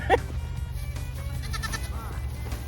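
Pygmy goats give one short, sharp bleat near the start over a steady low hum, followed by quieter background sounds.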